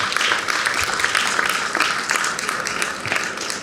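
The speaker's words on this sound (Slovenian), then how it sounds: "En velik aplavz." Audience applause follows a panel guest's remarks at a Slovenian public discussion about shaping the future: dense, steady clapping from a roomful of people, fairly even in loudness across a few seconds with no speech over it.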